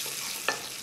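Flour being stirred into freshly heated oil in a bowl to make a pastry oil paste, a soft steady scraping hiss with one brief brighter clink of the utensil midway.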